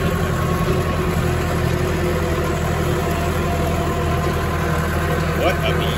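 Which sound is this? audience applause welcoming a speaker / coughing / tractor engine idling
tractor engine idling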